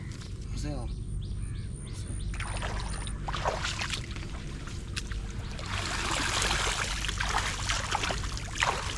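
Tide water rising in a creek in a coastal village during crab trapping, a steady trickling, pouring flow close by, with birds chirping throughout and people talking over it.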